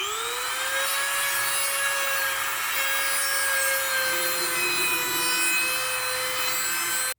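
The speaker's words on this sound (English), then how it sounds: "we're going to take a Dremel that has a sanding wheel on it" Steady high-pitched whine of a Dremel rotary tool with a sanding wheel grinding plastic, continuous and close for several seconds with a constant tone and rough abrasive hiss underneath.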